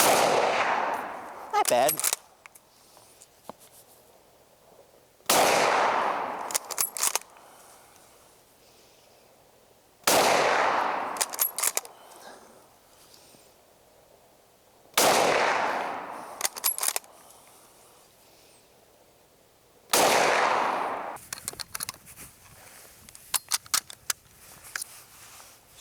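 Five loud, sharp rifle shots from military surplus bolt-action rifles such as a Lee Enfield, Mosin Nagant and Mauser, fired outdoors about five seconds apart, each followed by a short ringing decay and bolt clatter, with brief speech.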